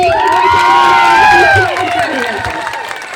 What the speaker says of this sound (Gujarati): એક જોરદાર તાળી આપણે ફરતી વગાડીએ